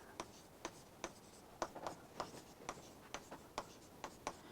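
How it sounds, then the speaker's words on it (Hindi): A pen taps and scratches across a board while a JEE Advanced math problem is worked out, giving quiet, evenly spaced strokes in a steady rhythm, faint and close. "जो अपन लिख रहे हैं।"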